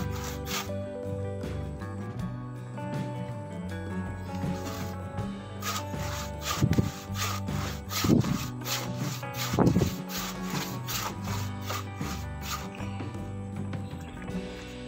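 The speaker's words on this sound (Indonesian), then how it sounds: "Oke, kita coba gunakan gergaji." A hand saw cuts back and forth through a soft tree trunk outdoors in a series of rasping strokes that grow louder midway, with faint background noise throughout.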